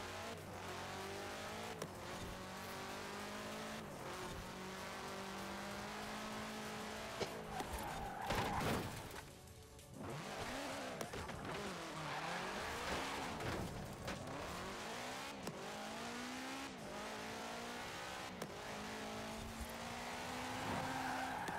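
A car in Forza Horizon 4 loses its rear end and skids, engine revving hard through continuous tire squeal and sliding, loud and sustained across the whole stretch.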